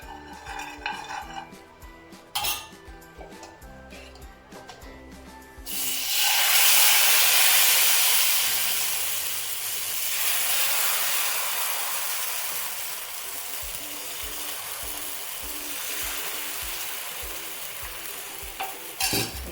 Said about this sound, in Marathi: याच पद्धतीने मी दुसरा पण डोसा टाकत आहे